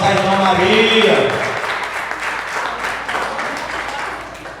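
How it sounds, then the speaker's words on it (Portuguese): Church congregation applauding during a service, a steady wash of clapping with voices and a harmonic cry mixed in early, loud at first and then fading slightly but continuing throughout. "Salve de palmas à irmã Maria."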